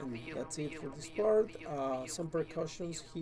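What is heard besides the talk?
No everyday noise stands out behind the speech.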